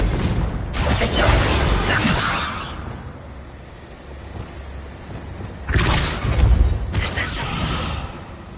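Confringo blast spell explosions in Hogwarts Legacy, loud roaring fiery bursts followed by rumbling decay, with a second pair of blasts a few seconds later and a character's voice nearby.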